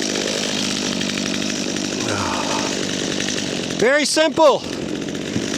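A chainsaw idles steadily nearby in deep snow, a rough continuous engine drone, while someone briefly speaks over it near the end.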